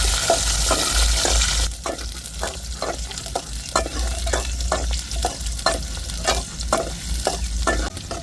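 Small onions frying in plenty of oil for brinjal kuzhambu, with a constant close sizzle and a spoon scraping the pan in a quick, regular stirring rhythm.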